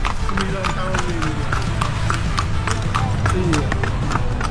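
A nine-year-old male horse pulling a bendi cart through Langowan, its hooves clip-clopping in a steady, brisk rhythm, near and loud, while people talk over it.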